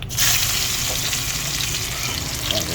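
Garlic fries loudly in hot cooking oil, a close, steady, dense sizzle that starts abruptly and continues without pause.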